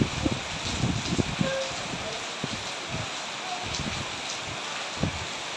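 Heavy, continuous rain pours down around a flooding house in Yasothon, Thailand, a steady hiss with scattered close drop impacts throughout and no voices.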